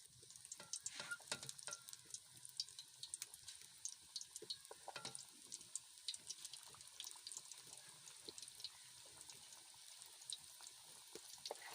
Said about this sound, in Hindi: तो माशाल्लाह जी घी गर्म हो गया है। तो हम पकौड़े करते हैं तैयार।